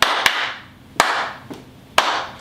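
Slow, evenly spaced hand claps ring out roughly once a second with a lighter tap between, each trailing a long reverberant tail in a quiet room before a cowboy song begins, with no voices over them.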